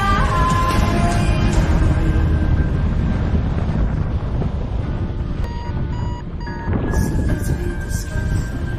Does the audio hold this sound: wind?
yes